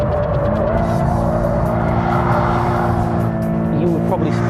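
Toyota GT86 sports car sliding sideways through a corner, a steady loud engine drone with a high tire squeal, heard from inside the car while someone talks over it.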